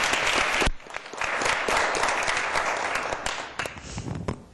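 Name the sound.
round of applause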